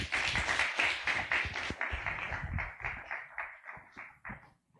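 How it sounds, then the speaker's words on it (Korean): A church congregation claps for a guest professor at a Sunday afternoon service, the dense applause loud at first, then thinning into scattered, separate claps that fade toward the end. "박수 한번 하겠습니다."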